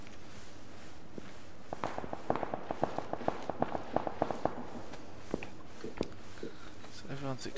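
PlayerUnknown's Battlegrounds gunfire exchange: a rapid run of sharp, evenly spaced shots, moderately distant, crackling through the middle of the clip with a few scattered later cracks.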